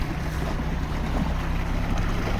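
A Fuber Global 1.5 kW portable electric outboard boat motor runs at full throttle on the water, a loud continuous rush of water and wind over a low steady motor drone.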